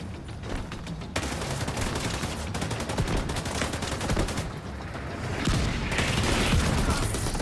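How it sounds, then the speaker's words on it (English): Dense, loud barrage of gunfire and blasts in The Division 2, with mortar rounds landing all around in a rapid, overlapping rattle that swells toward the end, no voices. "Now mortars are all over the place."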